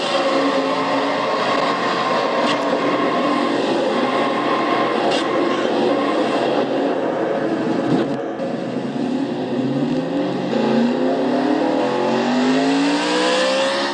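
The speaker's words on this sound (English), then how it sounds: "You heard Skyland stall the car and then got going again." A race car in the Castrol GTX Cup Series stalls, then restarts and pulls away, its engine note climbing steadily in pitch over a continuous rumble heard from on board.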